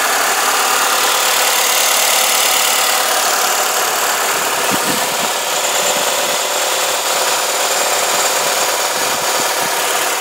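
A 2011 Nissan Altima 2.5S engine idles loudly and evenly, a steady close-up mechanical hum with a faint rhythmic ticking and no voices.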